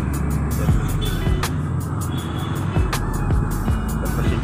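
Traffic on a busy city street, mostly private cars and motorcycles passing close by, with a constant engine rumble and repeated swishing pass-bys.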